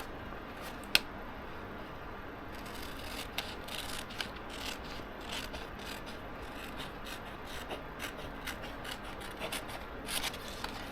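Scissors cut through the material of a homemade stage box, a steady rasping and snipping that runs close and continuous over several seconds with scattered sharper clicks, no talking.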